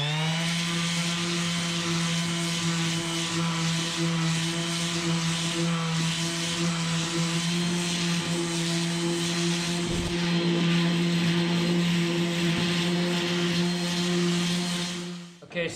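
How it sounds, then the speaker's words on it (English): A palm sander fitted with 80 grit sandpaper smoothing the edges of an old salvaged ship timber, running as a steady, loud continuous hum with a droning whir throughout, cutting off near the end. "We're gonna go ahead and smooth all these edges out with 80 grit sandpaper on my palm sander."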